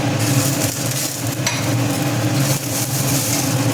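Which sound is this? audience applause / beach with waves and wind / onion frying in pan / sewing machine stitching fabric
onion frying in pan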